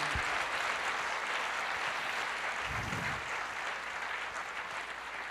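Church congregation applauding during a Brazilian evangelical service, a steady wash of clapping throughout, fairly loud and sustained with no talk over it.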